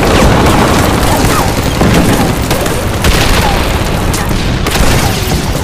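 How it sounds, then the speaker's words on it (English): Heavy explosions, shell bursts and gunfire from a Pacific tank battle thunder continuously and loudly, dense booms and crackling volleys overlapping with no pause. "Explosions and shell bursts illuminate the battlefield."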